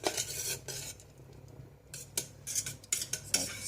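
Beeswax melting in a pot is stirred with a metal utensil, giving intermittent scraping and clinking strokes against the pot, close and moderately loud, with quiet pauses between bursts.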